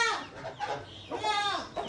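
Chickens clucking on a farm, close and fairly loud, with a couple of rising, drawn-out clucks and calls in quick succession.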